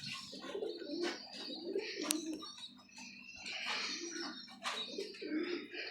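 Pigeons coo in soft, repeated throaty phrases in a loft, close and fairly quiet, with a few faint chirps in the background.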